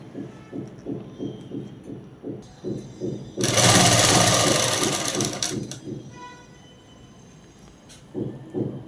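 A sewing machine stitches a dress with a rapid, even run of needle strokes, broken in the middle by a few seconds of louder rustling, then the stitching rhythm resumes.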